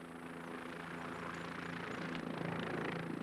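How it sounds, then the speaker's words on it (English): Helicopter flying overhead in rugged terrain, a steady moderately distant rotor drone that grows slightly louder toward the end, with no talk. "You know that chopper's gonna spot her before we even get started."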